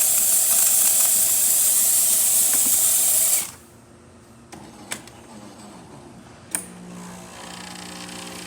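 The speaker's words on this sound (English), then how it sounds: "Nice steam coming out of the machine, excellent temperature" Loud, steady steam hiss from a Jura coffee machine after a full tune-up, which cuts off abruptly partway through and leaves a quiet machine hum broken by a few short clicks.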